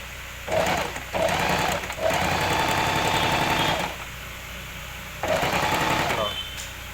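A Singer M2605 overlock machine stitches in several rapid bursts of rhythmic mechanical whirring, close and loud, with short pauses between runs and quiet talk in the background.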